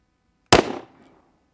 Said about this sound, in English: Let's get these 4 rounds downrange.